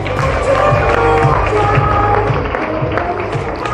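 At an evening show at a campsite, an audience applauds and cheers continuously, a dense wash of clapping and crowd noise with music and a host's voice mixed in.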